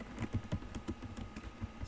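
Typing on a computer keyboard while writing in the Vim editor, a rapid uneven patter of close key clicks with no voice over it.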